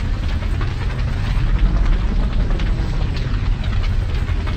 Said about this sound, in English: There's a chopper out there somewhere.